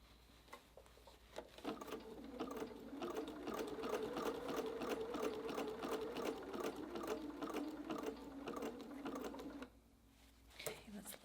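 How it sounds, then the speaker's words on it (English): Sewing machine stitching fabric for a large jelly roll tote, a fast steady run of close needle strokes lasting several seconds before stopping, with brief starts around it and a voice talking quietly. "We're going to sew up to this line and then straight across."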